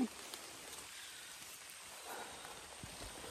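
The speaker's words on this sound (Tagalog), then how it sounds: "Pasensya na kayo at umuulan." Rain falling outdoors, a faint steady patter and hiss throughout, with a few brief louder drops or taps near the end.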